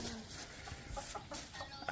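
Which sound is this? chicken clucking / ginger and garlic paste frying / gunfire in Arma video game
chicken clucking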